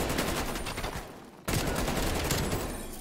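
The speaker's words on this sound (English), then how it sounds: "Gunfight." Rapid bursts of automatic gunfire in a video game firefight, loud and continuous, breaking off briefly near the middle before another dense volley resumes, no voices over it.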